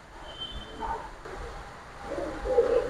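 Pigeons at a pigeon market, soft cooing calls repeating close by over a low murmur of background noise.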